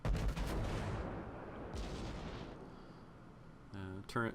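Heavy naval gunfire from World of Warships, with a big battleship salvo booming at the start and rumbling on, followed by sharper cannon reports near the end.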